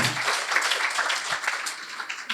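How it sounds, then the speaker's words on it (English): Audience applause at a swearing-in and launching ceremony for a volunteer corps in The Gambia, a steady wash of many hands clapping that fills the whole moment without a break, fairly loud and with no talk over it. "I want to hear a louder round of applause."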